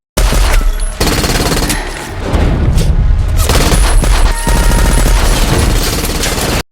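Film gunfight with bursts of automatic gunfire and heavy booms, loud and dense throughout, shots rattling in rapid overlapping volleys with crashing impacts and a driving score beneath.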